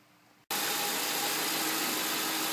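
A 2006 Ford Crown Victoria Police Interceptor engine starts up after a brief quiet moment, then idles steadily with a loud, even hum and its cooling fan running.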